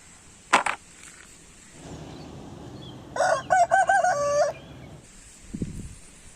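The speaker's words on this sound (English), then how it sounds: "rooster." A rooster crows once, a loud, clear cock-a-doodle-doo close by, set apart by short, sharp sounds before and after it.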